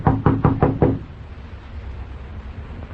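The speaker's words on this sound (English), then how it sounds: "I'll knock first, just to make sure." Knocking on a door as a radio drama sound effect, five quick firm raps in a row, close and loud, followed by quiet room tone.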